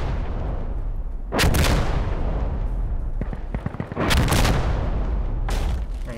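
Gunfire and artillery in the video game Insurgency Sandstorm, heavy booming blasts and sharp shots in several loud bursts with rumbling tails, dense and close.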